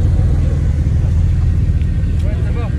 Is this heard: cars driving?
yes